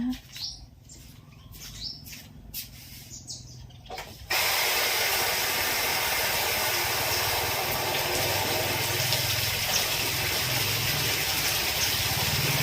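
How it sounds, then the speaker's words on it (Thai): A water tap opened outdoors near a small waterfall and pond: a few birds chirp over quiet ambience, then water suddenly bursts on and gushes in a loud, steady broadband rush to the end. "วันนี้ป้าอยากจะ เปิดน้ำดูสัหน่อยนะคะ"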